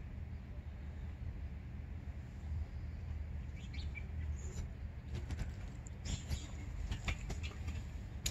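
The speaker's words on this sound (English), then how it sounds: "the way he's chirping is kind of weird." A young blue jay gives scattered sharp chirps and calls, faint against a constant loud low rumble of background noise that dominates throughout.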